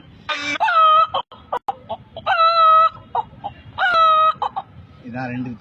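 A human voice imitating a hen, repeated bursts of clucking and cackling calls in several loud, close phrases separated by short gaps, with a lower murmur near the end.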